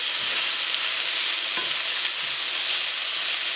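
Jerk pork sizzles in a hot pan, a steady, loud hiss of frying with a few soft stirring scrapes, continuous and close, no talking.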